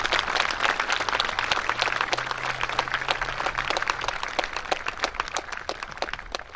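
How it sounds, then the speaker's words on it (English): Students clap for first responders at a school mock car crash assembly, a sustained crowd applause of dense clapping from a large group that lasts several seconds. "So can we give them a round of applause?"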